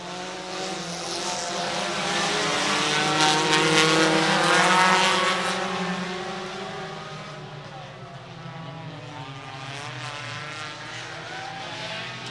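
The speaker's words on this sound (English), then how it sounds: "we can get on with more racing action here at the La Crosse Fairground Speedway" Hornet-class race cars racing at La Crosse Fairground Speedway, their engines droning in a sustained, wavering roar that swells as the pack passes close and then fades slightly, with announcer-style talk running over it.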